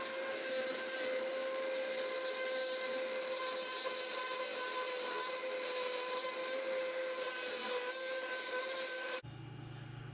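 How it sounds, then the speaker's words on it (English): A power sander works a wooden flag's star section, a steady loud whine with strong tonal hum running for about nine seconds before cutting off abruptly into a quieter tail. "I'm gonna sand this down."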